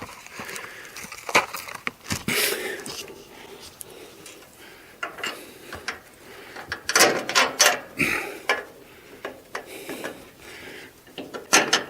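A wrench ratchets and clicks in short bursts while the last bolt is tightened on a Traeger Timberline 850 pellet grill during assembly, with metallic clacks and pauses between spurts of turning, close and fairly quiet.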